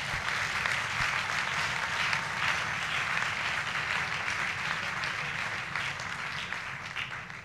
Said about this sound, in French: Est-ce qu'on peut l'encourager en acclamant?